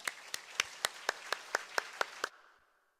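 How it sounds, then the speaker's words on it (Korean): About ten sharp, evenly spaced claps ring out at a church worship gathering, steady and distinct rather than a full crowd, ending with a short reverberant tail into silence. "우리 나오실 때 힘차게 박수로 환영해 주시기 바랍니다"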